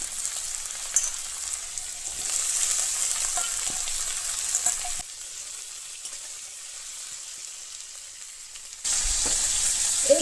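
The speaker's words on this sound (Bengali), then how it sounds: "তেলটা গরম হয়ে গেছে, এরপরে দিয়ে দেবো পেঁয়াজগুলো। পেঁয়াজের সাথেই দিয়ে দেবো আলু।" Onions and potatoes dropped into a little hot oil, a soft sizzle that fades to near quiet midway and then flares up loudly again near the end, no speech.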